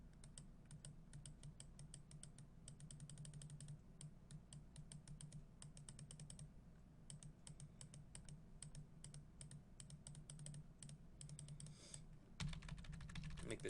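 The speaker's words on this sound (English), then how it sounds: "I'm hitting the left curly brace on my keyboard." Soft, steady computer keyboard typing, dozens of quick light key clicks in irregular runs, faint and close, with no voices.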